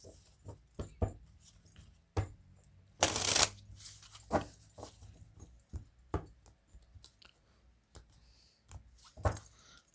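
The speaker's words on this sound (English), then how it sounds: "Let's pull a few cards on this and then let's get into this." Tarot cards being shuffled and pulled from a deck: repeated soft riffles, slaps and flicks of card stock in an irregular rhythm, close and fairly quiet, with one louder burst of riffling partway through and no talking.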